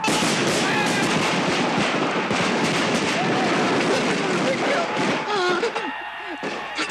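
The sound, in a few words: Civil War infantry rifle volley fire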